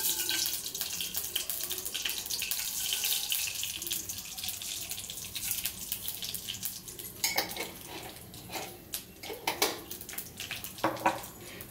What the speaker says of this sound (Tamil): ஸோ கடுகு வந்து நல்லா பொரிஞ்சு வருது.